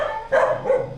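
A dog barks twice in quick succession close by, two short harmonic bursts against a quiet background.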